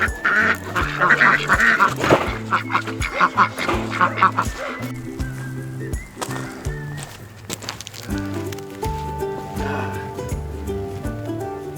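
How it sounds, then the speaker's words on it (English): Ducks being moved quack repeatedly and loudly at close range in overlapping, irregular bursts, with some louder honking calls mixed in. "Moving some ducks."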